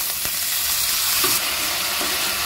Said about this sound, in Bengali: দেওয়ার পর সমস্ত উপকরণগুলো আমি 1 মিনিট মতো নেড়ে চেড়ে কষিয়ে নিলাম